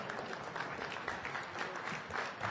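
Audience applause at a Freedom From Religion Foundation event, a dense, moderately faint wash of clapping from a hall crowd, steady throughout with slight swells.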